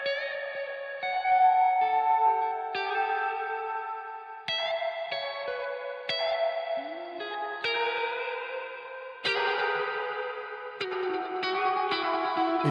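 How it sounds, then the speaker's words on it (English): An iOS app emulating the Roland Space Echo RE-201, switched to reverb only, plays a sequence of sustained synth-like chord tones. Each one blooms into a long, washy reverb tail in otherwise quiet surroundings. "what they've added is down the bottom, you can just have the reverb only"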